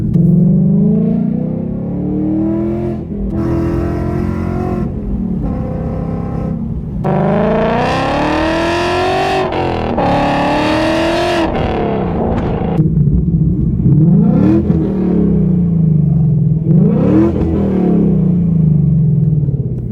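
A 2020 Ford Mustang GT with long tube headers, high flow cats and a Ford Performance exhaust idles with a deep burble, then revs repeatedly in loud rising and falling sweeps before settling back to a rumbling idle.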